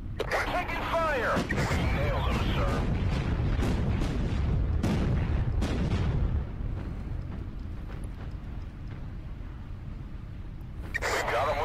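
Naval gunfire and heavy explosions in the World War II naval combat game Battlestations Pacific: repeated loud booms and blasts over a dense, continuous battle rumble, with voices talking throughout.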